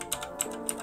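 Keys clatter on a computer keyboard in a short burst of a few crisp strokes while a layer name is typed in editing software, close and fairly quiet.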